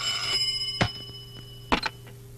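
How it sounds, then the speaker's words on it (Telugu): A telephone rings indoors in a Telugu film scene, a steady electronic ring tone that holds throughout with a couple of brief knocks over it and no voices. "ఫోన్ మోగుతోంది కదరా"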